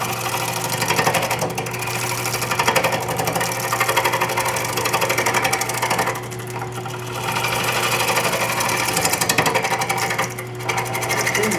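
A bowl gouge cutting dry ash wood on a spinning lathe: a loud, steady whirring rasp with a constant hum that briefly eases off a few times as the tool lifts and bites again.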